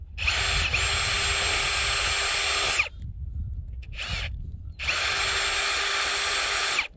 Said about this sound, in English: So I've got my 1/8 inch drill. I'm going to start with that.